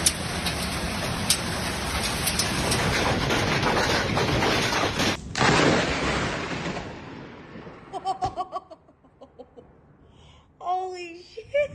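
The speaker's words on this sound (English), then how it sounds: "Locals compared the sound of hail on tin roofs to a machine gun that wouldn't stop." Baseball-sized hail pounds a tin roof in Australia in a dense, loud clatter that cuts off suddenly, followed by quieter drips and a few shouted voices.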